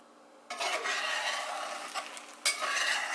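Eggs scrambling in a greased cast iron pan, pushed around with a utensil: a soft sizzle starts abruptly and keeps going, with scraping strokes and one sharper scrape near the end.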